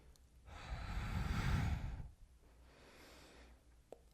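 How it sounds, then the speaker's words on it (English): During a yoga flow, someone takes a deep, audible breath in and lets it out in a long sigh. A softer second breath follows, close and quiet. "Deep inhale, deep exhale."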